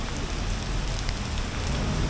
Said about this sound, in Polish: Ciągle pada.